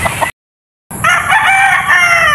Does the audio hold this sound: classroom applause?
no